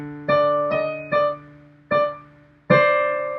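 Piano plays a line with both hands together: five clear struck chords in an uneven rhythm, each ringing and fading, near and alone with no talk.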